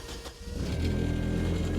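A 450HP 1.6-litre rear-wheel-drive Ford Fiesta with a dry-sump engine cranks and fires up, settling into a loud, steady rumbling idle close by.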